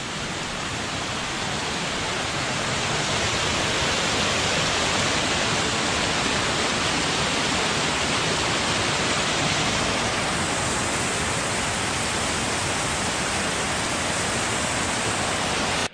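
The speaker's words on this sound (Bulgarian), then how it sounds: "Ето го и водопада" Upper Aleko waterfall on Vitosha mountain roars steadily and loudly up close, a dense unbroken rush of falling water that holds evenly throughout.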